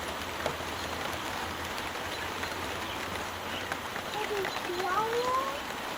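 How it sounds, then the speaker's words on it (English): Steady rain falls outdoors, a continuous close hiss of drops that holds at an even level throughout, with a few faint bird chirps near the end. "Ooh, it's getting chilly with that rain."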